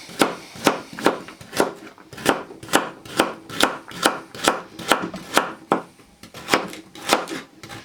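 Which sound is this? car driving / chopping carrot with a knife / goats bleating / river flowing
chopping carrot with a knife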